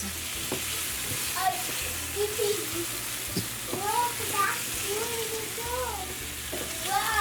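Shrimp and sliced button mushrooms frying together in a pan make a steady near sizzle with soft stirring noises, while a voice talks intermittently over the cooking.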